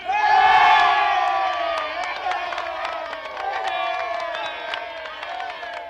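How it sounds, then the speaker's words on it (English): A crowd in the stands cheers and shouts at a tournament, a loud, dense roar of many voices with whoops that peaks early and then stays strong throughout. "as you can hear, the crowds are gathered right now in the stands, anxiously awaiting this year's tournament."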